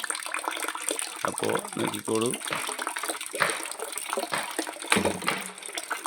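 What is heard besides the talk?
water flowing into a tank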